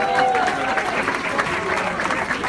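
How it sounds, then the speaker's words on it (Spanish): An audience at an awards tribute honoring women rock and blues musicians breaks into brief, steady applause, with a voice briefly audible over the clapping. "Aplausos para ella."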